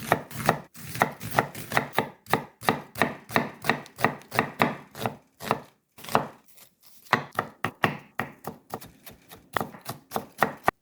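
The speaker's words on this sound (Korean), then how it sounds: "양파는 점이듯이 얇게 썰어줘요." A knife thinly slices an onion on a cutting board in a rapid, steady run of close, crisp chops, pausing briefly midway before resuming at the same quick rhythm.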